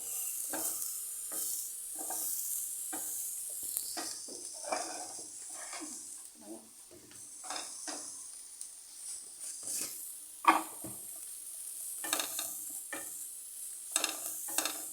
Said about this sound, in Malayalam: ഇച്ചിരി ഉപ്പ് ഇട്ടു നന്നായിട്ട് നമ്മൾ ഇളക്കി എന്നെ യോജിപ്പിക്കുകയാണ്